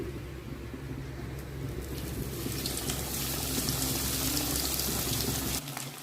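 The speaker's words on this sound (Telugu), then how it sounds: "ఆయిల్ హీట్ ఎక్కింది. ఇప్పుడు ఫిష్ని దాంట్లో వేద్దాం." Fish frying in hot oil in a pan, a steady broad sizzle that swells louder partway through and stays close, cutting off near the end.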